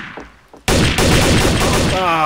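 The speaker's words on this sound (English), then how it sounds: "Gunfire in the distance." Gunfire in a Garry's Mod Trouble in Terrorist Town match: after a quiet moment, a sudden burst of rapid, dense shots rattles on loud and continuous to the end.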